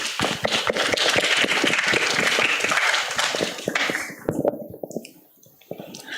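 Audience applause welcomes a high school student team onto the stage at an English talk concert, a dense burst of clapping that thins and fades toward the end.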